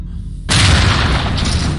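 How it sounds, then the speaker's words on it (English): A C2 shaped charge blows in the SWAT 4 video game: a sudden loud boom that breaks the quiet and rolls into a long, roaring, debris-filled rumble. "Alltså C2 är ju en shaped charge."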